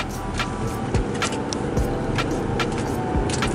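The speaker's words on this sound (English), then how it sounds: "This is the motor from the S4, so it has some giddy up" A 2012 Audi A6 3.0T with a supercharged engine from the S4 hums steadily while driving, with a continuous low drone of engine and road noise and occasional light clicks and thumps inside the cabin.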